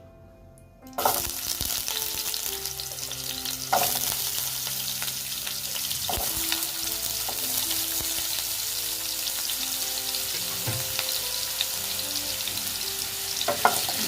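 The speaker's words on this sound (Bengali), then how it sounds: "দিয়ে আলুগুলো একটু ভেজে নেব" Cut potatoes fry in oil in a pan with a loud, continuous close sizzle that jumps up as they are added, with light stirring scrapes over soft background music.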